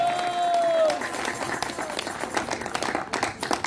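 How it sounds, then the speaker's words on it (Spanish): A church congregation claps during a Spanish-language sermon, a crowd of hands rattling at moderate level and continuing after a preacher's voice fades out early on. "Denle un aplauso a Jesús, hermano"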